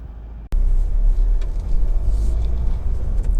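A Honda CR-V 1.6 i-DTEC SR diesel from 2014 cruises along a road, its low, steady engine and tyre rumble filling the cabin right after a sharp click, continuous and fairly loud with no talking.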